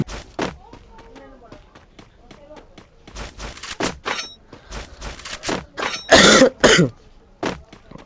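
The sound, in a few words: coughing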